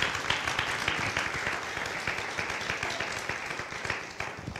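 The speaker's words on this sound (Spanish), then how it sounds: "Dale un fuerte aplauso" A church congregation applauds in a sustained burst of dense, steady clapping that fills the room, moderately loud, with faint voices mixed in.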